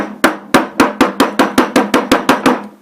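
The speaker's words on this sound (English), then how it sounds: "In this case I need a bigger hammer" A hammer strikes a stuck bolt on a 1974 Gravely 812 mower deck about ten times in a steady rhythm, each blow sharp and ringing, loud and close.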